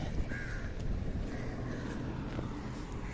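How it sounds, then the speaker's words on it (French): Crows cawing in a quiet, eerie neighborhood, a few faint hoarse calls carrying from a distance over steady wind and low rumbling background noise. "il n'y a que des corbeaux"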